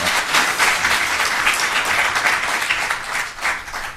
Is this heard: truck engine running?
no